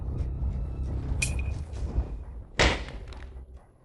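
A phone is slammed down onto a surface, two sharp impacts landing a little over a second apart, the second louder and fuller, against a quiet indoor background.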